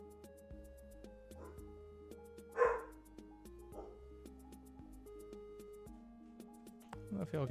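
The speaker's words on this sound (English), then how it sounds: "I don't know if y'all can hear my dog barking in the background." A dog barks somewhere in the background of a room where music plays, giving a couple of faint distant barks, one of them louder near the middle, all under the steady music.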